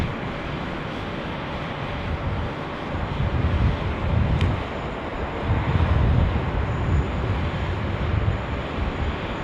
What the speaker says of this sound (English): Philippine Airlines now, A330 coming in over the 16 left arrival